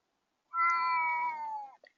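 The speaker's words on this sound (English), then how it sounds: "That's my cat saying hello." A single clear cat meow, drawn out for about a second, close and fairly soft, followed by a tiny faint chirp in otherwise quiet surroundings.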